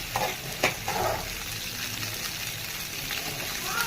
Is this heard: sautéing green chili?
yes